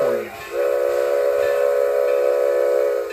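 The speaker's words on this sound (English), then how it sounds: "That is a SHAY locomotive. It was built in 1913 in Lima, Ohio" A 1913 Shay steam locomotive from Lima, Ohio sounds a steady, loud steam whistle. After a brief dip in pitch it holds a sustained chord-like tone that stays strong for the rest of the clip and carries no talk.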